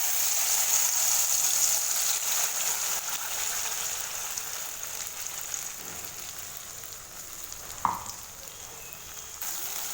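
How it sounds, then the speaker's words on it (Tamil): Ground masala paste fries in hot groundnut oil for a lady's finger kara kulambu, a steady bright sizzle held throughout at moderate level, with one short clack of a utensil near the end. "எண்ணெயில் இந்த மசாலா சேர்த்துட்டு இதை நல்லா மிக்ஸ் பண்ணி வதக்கி விட்டுக்கோங்க"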